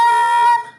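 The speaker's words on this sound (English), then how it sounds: "some of you might be getting really squeaky, squawky sounds like this" A saxophone with too much mouthpiece in the player's mouth gives a single shrill, squeaky note, bright and piercing, held for about half a second before cutting off, close and loud.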